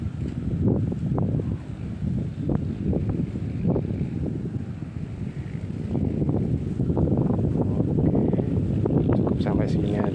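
Strong wind during tawes fishing on a windy day buffets the microphone in a continuous, loud roar that swells and eases, with faint voices underneath.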